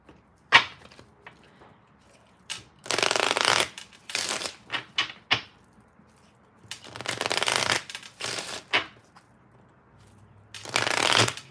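Romance tarot cards being shuffled close up in several loud riffling bursts, separated by short pauses and light taps of the deck.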